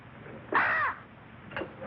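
In a 1950 film noir, a crow-like bird gives one loud harsh caw followed a second later by a shorter, fainter one, close by against a low background hum.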